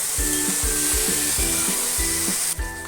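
Spices with salt, turmeric and cumin fry in a pan for Bengali kachu saag, a loud steady sizzle with rhythmic stirring strokes scraping about every half second, close up and without speech.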